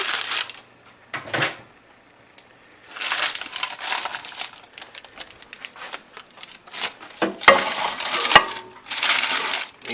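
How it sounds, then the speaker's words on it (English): Sheets of parchment paper crinkle and rustle in bursts as they are laid over sliced potatoes sprinkled with fine granulated salt, with quiet gaps between the close-up crackling handling sounds. "Then you take another piece of parchment paper,"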